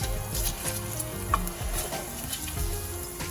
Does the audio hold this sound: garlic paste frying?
yes